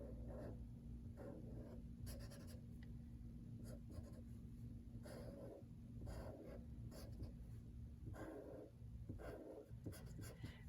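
Colored pencil shading across paper while drawing a cactus, a steady dry scratchy rasp with short bursts of strokes, close and fairly quiet over a low background hum.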